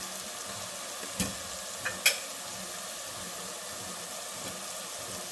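Masala of chilli powder, green chillies and turmeric frying in oil in a pan, giving a steady soft sizzle with a few sharp spatula scrapes or clicks, close and fairly quiet, no talking.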